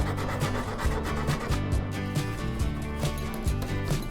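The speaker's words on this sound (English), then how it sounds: "so I take an abrasive pad and gently sand all the plastic surfaces" An abrasive pad rubs back and forth over the plastic surfaces of a 1945 fishing rod, a steady rhythmic scrubbing rasp that stays close and fairly loud throughout.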